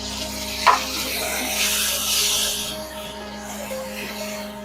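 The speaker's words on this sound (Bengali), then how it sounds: "পেঁয়াজ টমেটো মোটামুটি ভাজা হয়ে এসছে" Onion and tomato fry with turmeric and salt in a pan for a Bengali fish-head rice dish. A quiet hissing sizzle swells briefly with one sharp tap of a spoon, close and without speech.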